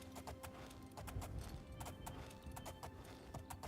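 Horse hooves clip-clopping in the video game The Elder Scrolls IV: Oblivion as an enchanted horse climbs a steep mountain, a steady run of sharp, evenly spaced hoof clacks heard alone at low volume.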